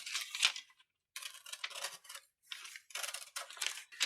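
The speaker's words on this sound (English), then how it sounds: "We cut out this side of the pattern." Scissors cut stretch swimsuit fabric along a traced pattern in a steady run of crisp, close snips separated by short pauses.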